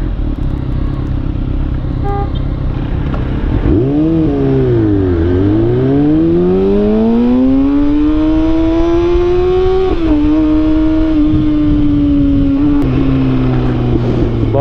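A vehicle's engine revs hard during a ride through traffic on a hot day, its pitch dipping, then climbing in a long sweep and holding steady. The engine is loud and close, with no talk over it.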